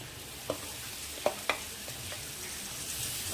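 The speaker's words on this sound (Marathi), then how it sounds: "आता आपण तोंडली ॲड करू यामध्ये" Ivy gourd (tondli) pieces tipped into a pan over a slow flame and stirred, giving a soft steady sizzle broken by a few sharp scraping clicks of the spoon against the pan.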